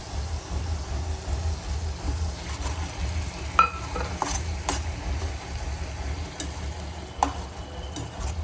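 Onion paste and tomato paste sizzling gently in a pan while being stirred, with soft steady frying hiss and occasional scraping clicks of the spoon against the pan; no voices.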